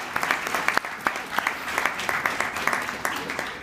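A seated crowd at a state service awards ceremony gives applause for the nominators, a moderate, even patter of many hands with a few louder claps poking through, continuous throughout.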